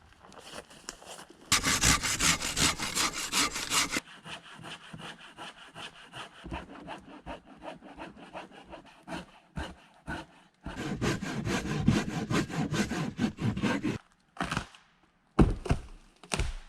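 Hand saw cutting through the wood at the top of an old tree stump outdoors, with loud steady back-and-forth rasping strokes in several long bursts separated by brief pauses.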